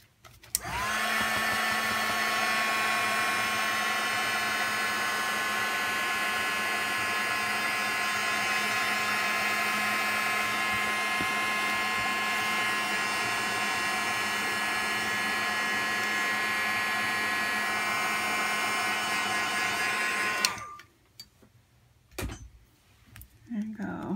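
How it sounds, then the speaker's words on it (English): Heat gun blasting a handmade greeting card, a loud, steady, close roar with a constant whine that runs for about twenty seconds before clicking off, then brief handling noises follow. "I'm just going to blast this with the heat gun real quick."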